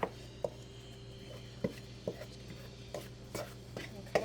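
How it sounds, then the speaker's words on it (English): A butter knife cuts butter into flour in a bowl for apple pie pastry, giving soft, scattered taps and scrapes at irregular intervals, faint and close, with no talking. "You're just going to cut that butter up through your flour."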